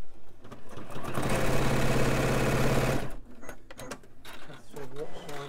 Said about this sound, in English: So I've taken these two pieces and I'm sewing these together.